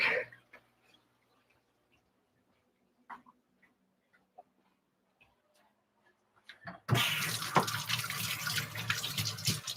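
Running water from a sink tap gushes on abruptly near the end as a filter part is rinsed, loud and steady after a stretch of faint clicks and near silence.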